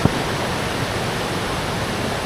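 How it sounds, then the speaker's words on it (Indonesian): Fast-flowing river rushing in a steady broadband roar, loud and close, continuous throughout with a single brief knock at the start and no voices. "sungai yang cukup deras ini ya."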